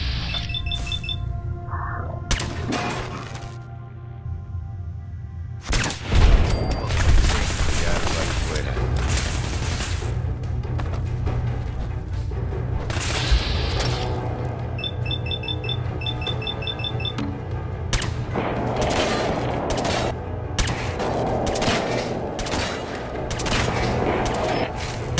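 Gunfire in the video game Fallout 4, with repeated loud bursts and booming shots spread through a chaotic firefight, mixed with electronic beeps and occasional spoken voices.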